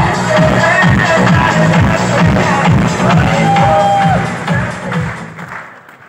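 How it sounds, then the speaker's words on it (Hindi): Loud, sustained applause and cheering from a crowd at a Star Sapphire celebration for a teacher, with dense clapping and some whoops and voices mixed in, fading off over the last second. "मिस्टर संदीप सर के लिए जोरदार तालियां"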